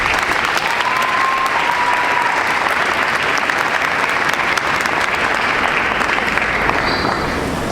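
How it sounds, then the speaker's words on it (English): Big audience applause at a Model United Nations inauguration for the Secretary General, a loud, continuous wash of clapping from a large crowd, sustained without pause. "Let us please give her a big applause."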